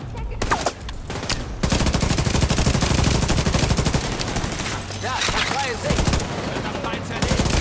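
Sustained automatic gunfire aimed at the player in The Division 2, dense and loud with continuous rattling bursts and brief gaps, overlapping other battle noise.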